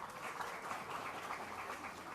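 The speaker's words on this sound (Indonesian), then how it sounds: "Tepuk tangan." Applause from a crowd at a political gathering in Medan, Indonesia, a faint, steady patter of many hands clapping at a distance with no single claps standing out.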